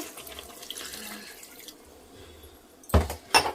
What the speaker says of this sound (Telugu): ఉడకడానికి ఒక 2 గ్లాస్ అయితే వాటర్ పోసుకుంటున్నా